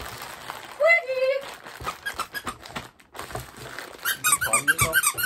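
A squeaky toy mouse gives sharp, repeated squeaks in short bursts, close up, along with crinkling and handling noises as someone talks over it.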